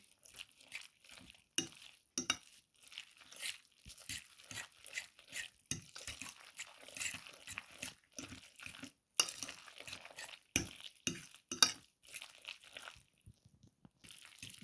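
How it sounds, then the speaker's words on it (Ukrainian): Egg whites are stirred into a mixture in a bowl for a simple egg-and-bread dish, making close, irregular bursts of spoon scraping and light clinks against the bowl, with no talk. "Сюди ж додаємо білки і дуже гарно розмішуємо."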